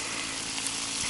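A steady, close sizzle of canned stewed meat frying in a pan at a taiga camp, a continuous crackling hiss with no voices.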